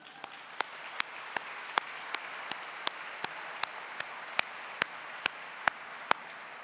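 Audience applause fills a general session hall at the UUA General Assembly 2017: a steady wash of clapping with sharper claps cutting through at a regular pace, moderately distant and with no talk over it.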